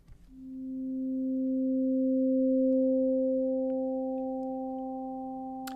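Soft synth pad from the Waldorf Nave iPad synthesizer, set with a slow attack and long release, swells gently into a sustained, steady chord that holds and fades slightly, with no talking over it.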